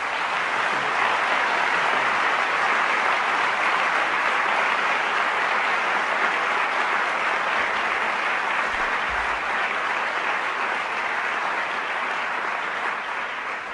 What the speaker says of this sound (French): J'aimerais vraiment vous demander de l'applaudir